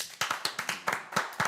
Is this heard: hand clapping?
yes